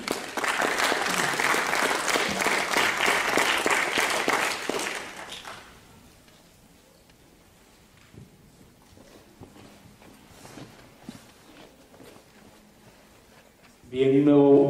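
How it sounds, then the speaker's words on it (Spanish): A seated audience at a talk on cultural organisations applauds a speaker, dense clapping for about five seconds before it stops, followed by a quiet room with faint shuffles and a voice starting up at the end. "un nuevo renovado aplauso para Boris"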